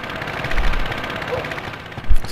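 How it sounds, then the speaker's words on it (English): A loud moped engine in the video game Shenmue: a close, continuous buzzing putter with a rapid rattling pulse, running steadily throughout with a low thump near the end. "This loud ass nigga on this loud ass moped and shit."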